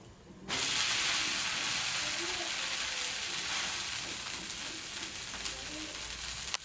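Green gram dosa (pesarattu) sizzling on a hot pan just after being flipped, a steady broad frying hiss that starts abruptly and continues evenly throughout; no talking.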